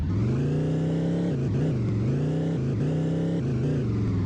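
A car engine drives and revs steadily in the video game Chicken Gun, a loud, continuous motor hum that dips and rises in pitch as it changes speed, with no voices over it.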